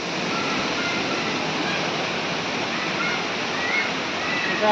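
Chatikana waterfall beside a Shiva temple below the Niyamgiri hills. Water crashes in a loud, steady, broadband roar that fills the scene evenly from start to finish.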